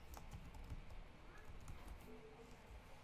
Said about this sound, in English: come back and type in Jeffrey again